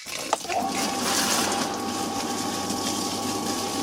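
A swimming pool pump starts with a click and then runs steadily, with a constant hum and rushing backwash water flowing continuously at close range.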